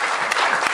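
Audience clapping at a poetry award ceremony, a steady burst of dense, close applause with no voices over it.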